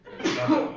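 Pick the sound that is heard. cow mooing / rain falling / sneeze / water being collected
sneeze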